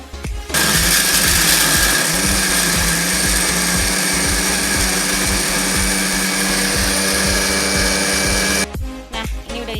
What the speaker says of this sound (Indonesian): Ini dihalusin dulu ya, kita blender.